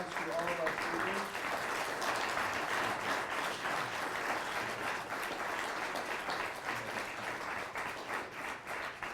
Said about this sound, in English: Let's give a round of applause to all of our speakers.